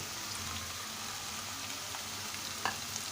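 Green chillies hiss and sizzle in hot oil while a home cook prepares a Bangla potato leaf and tomato curry. A steady, close crackle continues throughout, with a brief sharper spatter near the end.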